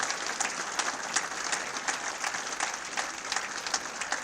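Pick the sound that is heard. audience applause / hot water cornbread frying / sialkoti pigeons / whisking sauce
audience applause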